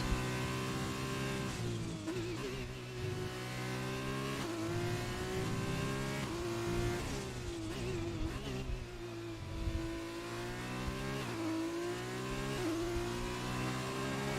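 F2 race car engine in F1 2020 on the USA short circuit, running on fresh medium tyres: a loud, continuous high-pitched engine whine rising through the gears with repeated upshifts and lifts, close on-board and steady throughout.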